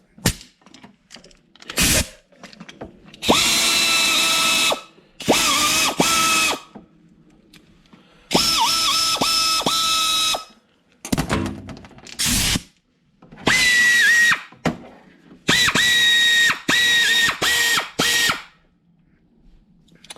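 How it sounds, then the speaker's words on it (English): A Neiko Pro 1/4-inch mini air ratchet whirs in repeated loud bursts of a second or two, separated by short pauses, with a faint hiss between runs. "Some cheap Chinese air tool."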